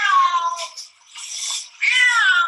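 A cat gives three distinct meows in quick succession, loud and close, with a brief gap after the first and a drawn-out, wavering final call, no voices.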